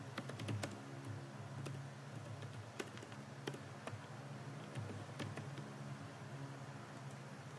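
Someone types a full name on a computer keyboard, light rapid key clicks in an uneven run over a steady background hiss, close but soft, with no talking.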